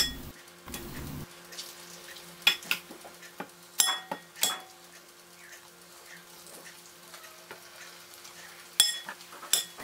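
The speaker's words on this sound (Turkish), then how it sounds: "bulamış olduğum balıkları tavanın içerisine ekleyip altın renk alana kadar kızartıyorum" Batter-coated anchovies fry in oil in a Teflon pan, a soft steady sizzle broken by clinking utensil taps and scraping against the pan.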